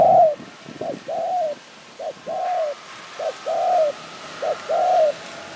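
A decoy dove used as a lure coos in a steady repeating pattern of short and drawn-out notes, clear and close, about a dozen calls in a row with no talk over them.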